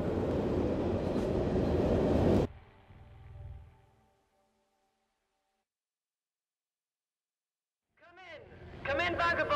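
A moving train in the game Fallout London rumbles loudly and steadily for about two seconds, then cuts out to a faint fading tail and near silence before voices and activity return.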